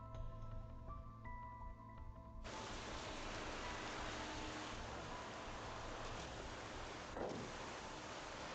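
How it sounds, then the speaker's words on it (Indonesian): Heavy rain pours as a dense, steady hiss that switches on abruptly and then continues unbroken at a moderate level, with no voices. "Hujan deras begini kamu bilang."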